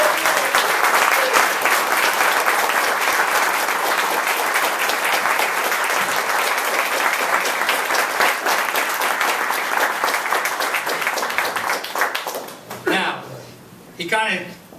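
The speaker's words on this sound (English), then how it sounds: "So would you please join me in giving Stan another round of applause for making this." A crowd at an LGBT veterans' event in Chicago breaks into sustained, dense applause that fills most of the stretch before tapering off near the end, with a voice coming in at the close.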